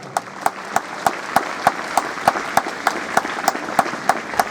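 Rhythmic, evenly spaced clapping beats in unison from a school crowd at an annual sports meet, honouring national and state level athletes, steady and fairly close over a faint background murmur.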